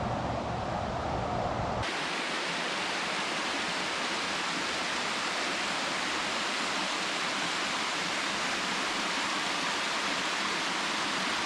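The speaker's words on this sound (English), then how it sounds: "This is the Coopy Falls, which is on the Coopy Creek." Coopy Falls on Coopy Creek pouring down, a constant loud broadband roar of falling water that swells in fully after a quieter opening and then stays unbroken.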